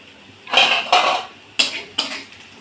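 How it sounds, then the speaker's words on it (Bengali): Bitter gourd fry being stirred in a metal pan, then the lid handled: four sharp clanks and scrapes of utensil on pan in an uneven rhythm, close and loud with brief ringing tails. "নেড়ে ছেড়ে দেবো এভাবে ভাজিটা হয়ে যাবে আমি ঢাকনাটা তুলে নেব"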